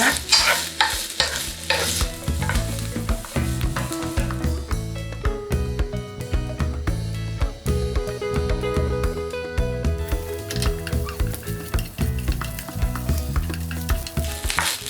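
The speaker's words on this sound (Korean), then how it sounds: "양파하고 스팸하고 먼저 좀 볶아주세요" Loud, continuous sizzling and scraping of onion and Spam being stir-fried in a pan, with music playing throughout.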